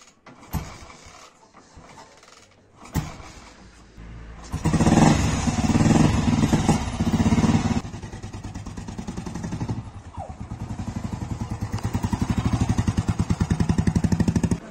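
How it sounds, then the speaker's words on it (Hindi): A motorcycle is kicked and cranked a few times, then its engine catches and runs with a loud, rapid chugging idle that dips briefly and picks back up, close by throughout. "और सबसे पहले करते हैं बाइक को स्टार्ट।"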